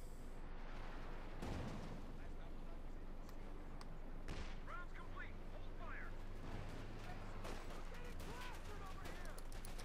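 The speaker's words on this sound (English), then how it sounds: "Lots and lots of mortar fire." Dense mortar and gunfire barrage from Company of Heroes 2, a match between the OKW and US Forces factions: continuous rumbling blasts and crackling shots fill the whole stretch, with talk running over the battle noise.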